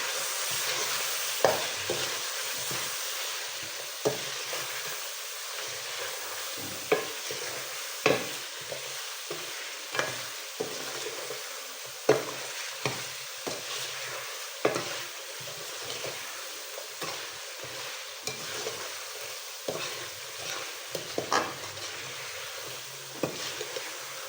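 Shimla chicken masala with coriander powder and turmeric stir-fried in a handi pot, steady sizzling and frying hiss broken by frequent scraping stirs and clinks of the spoon against the pot, close and continuous with no talking.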